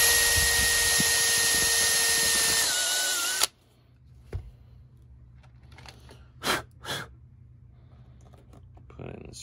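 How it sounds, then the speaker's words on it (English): A power drill whines loudly and steadily for a few seconds while driving screws into a panel of a fighting-robot arena, then cuts off, leaving a quiet room with a few soft knocks and clicks. "Drill it."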